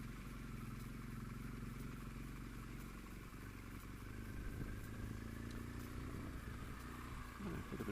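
Steady engine drone of a BMW R1200GS motorcycle ridden across a dam in the Brecon area, continuous low rumble with wind and road noise and a few small clatters, no speech.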